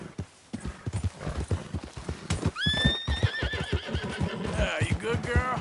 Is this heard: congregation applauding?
no